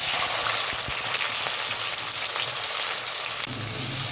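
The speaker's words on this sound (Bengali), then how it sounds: "আমি এবার ভেজে নেব।" Chicken pieces fry in hot oil for a homemade biryani, giving a loud, steady crackling sizzle that runs unbroken throughout, with no voices.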